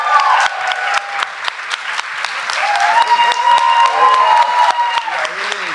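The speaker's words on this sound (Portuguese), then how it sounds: "Aplausos." An audience applauds at a panel on plural feminisms, sustained clapping throughout with an announcer's voice amplified over it.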